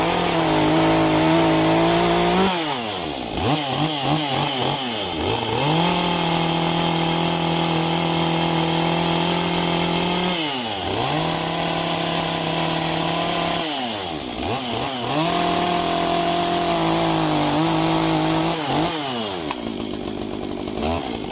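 A Stihl MS201 chainsaw fitted with a 12-inch Cannon dime-tip carving bar runs loud and close, revving up and dropping back several times in repeated surges with no talk.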